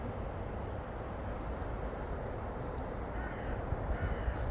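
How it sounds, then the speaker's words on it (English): A buzzard calls near an old playground: a few faint, harsh calls late in the stretch over a low, steady background rumble. "Oh, the buzzard."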